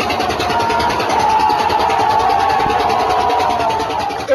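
Trawler boat engines on the Rupsha river during a boat race event, a loud steady droning rumble that runs close and unbroken throughout.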